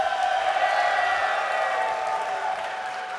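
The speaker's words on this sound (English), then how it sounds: "A big shout of applause for our Domo over here." A crowd at a Team Fortress 2 esports grand final applauds and cheers loudly, a steady wash of clapping and shouts that holds for a few seconds before easing slightly.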